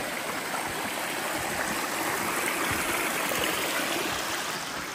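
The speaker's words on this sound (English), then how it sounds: "little waterfall action on the big climb up here" A small waterfall and stream along a steep Appalachian Trail climb rush steadily as dense, continuous broadband water noise, close and even throughout with no voices.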